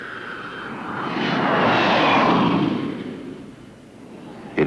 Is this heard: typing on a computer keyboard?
no